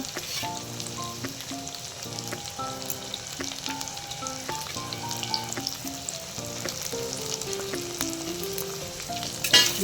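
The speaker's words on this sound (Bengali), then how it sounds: "নেড়ে কষিয়ে নেব আলুটাকে" Potato pieces with salt and turmeric sizzle in a hot pan as they are stirred and sautéed, with a steady frying hiss and occasional scraping under background music.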